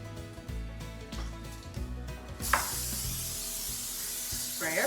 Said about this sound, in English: Spray our pan.